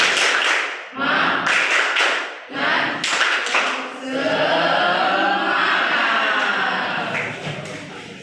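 Children in a classroom perform a rhythmic spirit clap, bursts of patterned clapping and taps with pauses, ending in a sustained crowd-like burst of clapping and cheering.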